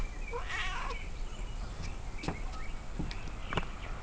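A cat gives a short, strained meow near the start, followed by faint scattered clicks and shuffles in a quiet indoor room.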